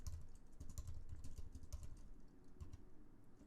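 Fingers type on a computer keyboard in quick, irregular bursts of soft key clicks, close but quiet, with no talk.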